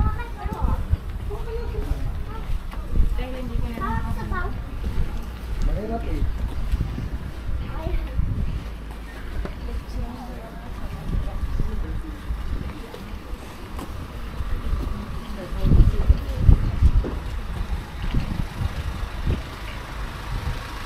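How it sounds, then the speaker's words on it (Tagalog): Cold, blustery wind outdoors in South Korea, gusting and buffeting the microphone in uneven rumbling bursts while people talk throughout. "Kasama pang hangin."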